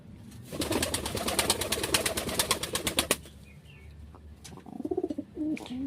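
A training pigeon coos while wings flap in a rapid clattering burst for about three seconds, followed by softer coos and a few light chirps close by.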